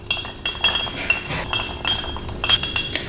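A chopstick stirs a cocktail in a serving glass, giving a steady stream of close, bright clinks and rattles of wood against glass and ice, continuous and fairly loud.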